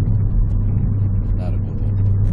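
Steady, muffled low exhaust rumble from an idling Suzuki Swift Sport ZC33S fitted with a deep-tone aftermarket muffler, heard up close and continuous with a brief faint sound partway through.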